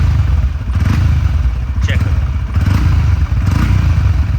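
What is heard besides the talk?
Honda CB125 Hornet motorcycle engine revving with the throttle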